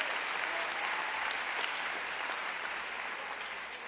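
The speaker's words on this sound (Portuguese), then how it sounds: "Se é para Jesus, pode aplaudir." Audience applause at a conference talk, a steady, moderately loud wash of clapping filling the whole stretch with no voices over it.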